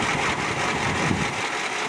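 A Chevrolet S10 4x4 with a 4.3 V6 runs with its oil removed, making a steady, close engine drone with a faint rhythmic pulsing and no breaks.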